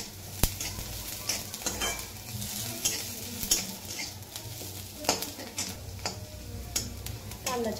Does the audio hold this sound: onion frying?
yes